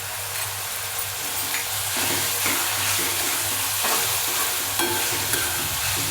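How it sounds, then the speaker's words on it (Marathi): Tomato, ginger and garlic sauté in a pan for matar-cauliflower bhaji, a steady close sizzle with soft scraping stirs throughout, no voices. "टमाटो, हे आलं लसूण ह्याच्याबरोबरच परतून घ्यायचे"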